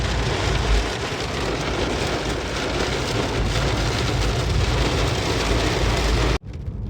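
Heavy rain drums steadily on a car, a Dacia Duster, as it descends a mountain road on the Transfăgărășan. The dense roar stays loud and constant, then cuts off abruptly near the end.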